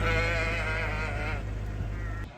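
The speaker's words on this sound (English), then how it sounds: "today we're just going to move the sheep and lambs onto fresh pasture" Sheep and lambs being moved onto fresh pasture let out a loud, wavering bleat near at hand, followed by a softer, rougher bleating that trails off.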